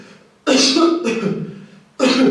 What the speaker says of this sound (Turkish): Öksürmelisin, rahatlayacaksındır.